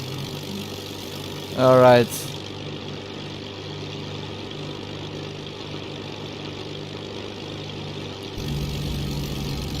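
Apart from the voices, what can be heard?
Spitfire Mk1a engine in Microsoft Flight Simulator video game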